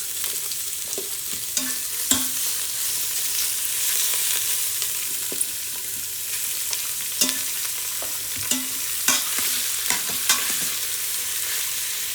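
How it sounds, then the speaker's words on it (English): Stew meat browns in hot canola oil in a pan, a steady loud sizzle broken by scattered sharp crackles and pops as the pieces sear, with no talking. "So in batches, we are going to brown our stew meat"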